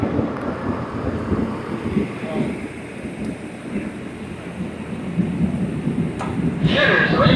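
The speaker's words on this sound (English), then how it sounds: "Since it is raining so hard" Heavy rain pours down at an outdoor shooting range, a dense steady roar with low rumbling underneath, close and continuous throughout, rising slightly toward the end.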